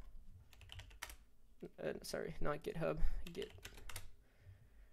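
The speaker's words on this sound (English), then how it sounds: "go on Google and type git" Computer keyboard typing, a quick run of key clicks while someone searches for Git before installing Git Bash, heard near and under continuous talk.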